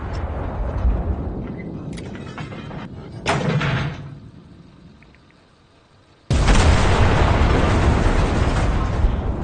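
HE timed-fuse shells burst in the video game Enlisted: loud, booming detonations with crackling debris, a lull as the noise fades, then a sudden sustained roaring blast filling the last few seconds.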